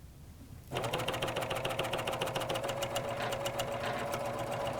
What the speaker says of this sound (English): Stitch to the corner and lower the needles into the fabric.